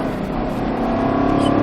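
Car engine accelerating during a driving lesson, a steady, loud rising engine drone heard from inside the car, brief and uninterrupted.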